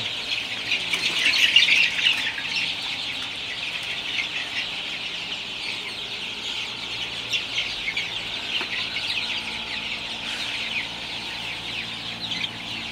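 High-pitched peeping and soft clucking from 24-day-old hybrid chicks continue steadily, loudest early on, over a quiet background.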